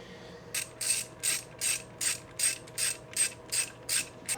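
A ratchet wrench clicks in a steady, even rhythm of about ten strokes while tightening supercharger bolts on a car engine build, close up and moderately quiet, with no talking.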